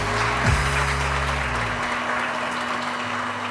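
Studio audience on a morning TV show claps in a steady, moderately loud patter, with a low electronic hum and a brief swooping tone near the start.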